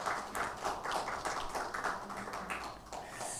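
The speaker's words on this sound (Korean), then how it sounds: "은혜로운 찬양해 주신 성가대원들에게 다시 한번 감사의 박수하겠습니다" A church congregation claps for the choir during a Sunday worship service, a moderately quiet, steady patter of hands that continues for several seconds with no talking.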